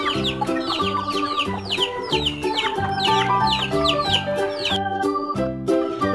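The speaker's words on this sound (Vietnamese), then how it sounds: "cho đang cho gà ăn các bạn ơi" Chickens cluck and chatter continuously while eating rice, several birds close by, with sharp repeated calls and a steady busy pecking rhythm.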